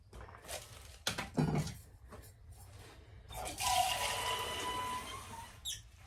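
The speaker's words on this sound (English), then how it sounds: "Just give that a water and let that drain through" Water is poured into potted tomato plants on an allotment, with a few splashy pours and then a longer steady trickle as it drains through the soil, close by and fairly quiet, with no speech.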